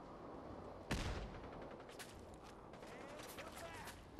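A Gauss gun fires once in Fallout 4, a single sharp, loud crack followed by a short decaying tail, with quieter game ambience and faint scattered clatter after it.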